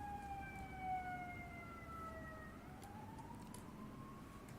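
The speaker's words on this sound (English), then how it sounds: "let me get this siren out of the way" A siren sound effect played during a Mothership tabletop RPG session: a clear wailing tone sweeps down, then rises again, moderately loud and alone without talk.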